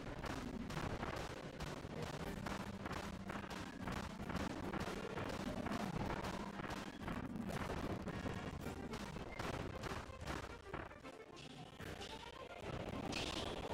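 Rapid bursts of shooting in the Kirby and the Forgotten Land video game, a dense run of sharp repeated blasts over steady game music throughout, with whooshing effects near the end.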